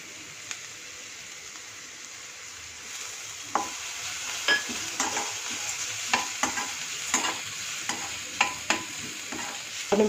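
Onion, ginger, green chili and curry leaves sautéing in a pan, a soft sizzle under repeated scraping strokes of a spoon that start after a few seconds and come in an irregular rhythm, with no talking.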